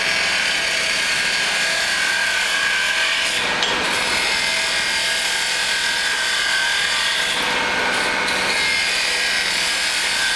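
Wood cut on a lathe while turning a stool leg, a steady loud scraping and hissing rasp that runs continuously and close up, with brief dips as the tool shifts, no voices over it.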